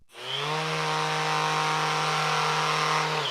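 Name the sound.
Rutlands sander running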